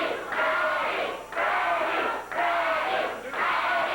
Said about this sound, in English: Crowd cheering him on as Freddie waits for Landell.